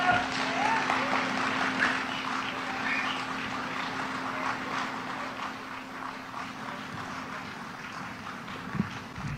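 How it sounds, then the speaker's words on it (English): An audience applauds after a speech, a soft, steady wash of distant clapping that holds evenly throughout. "Keep the applause going."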